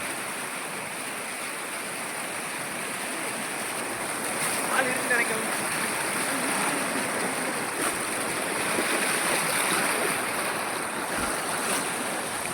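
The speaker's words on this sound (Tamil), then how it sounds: "பாபநாசம் திருவள்ளூர் நகரில் இருக்கிற வீடு பாருங்கள் வீட்டுக்குள்ளே இவ்வளோ தண்ணி வந்துருக்கு" Rain floodwater pours into a house in Thiruvalluvar Nagar, Papanasam, near Ambasamudram in Tirunelveli. A steady, dense rushing of flowing water holds at an even level throughout.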